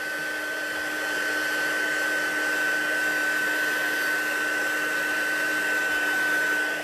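A heat gun heat-sets embossing powder on a stained glass craft piece, giving a steady, fairly loud blowing whir with a faint high whine that runs unbroken for the whole stretch.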